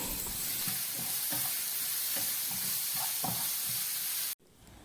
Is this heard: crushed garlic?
yes